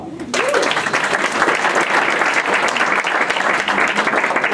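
Sustained audience applause at a community leadership ceremony, starting after a brief pause and holding steady and loud throughout, dense clapping with no talk over it.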